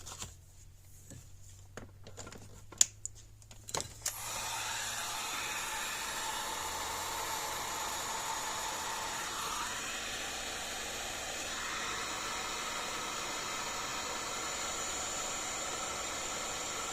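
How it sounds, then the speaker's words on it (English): A heat gun blows hot air onto heat shrink tubing during an electric fence charger repair, starting after a few handling clicks as a steady, close, even rushing hiss that holds for the rest of the span. "Heat gun."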